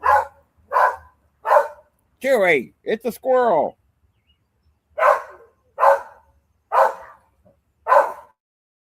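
A dog named Chewy barks at a squirrel outdoors: a string of sharp, evenly spaced single barks, loud and close. A person speaks briefly in the middle, between the barks.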